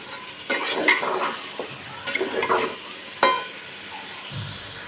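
Local beef and liver are stir-fried in a pan with turmeric, chili powder and salt. A utensil scrapes and clinks against the pan in irregular bursts over a soft frying sizzle.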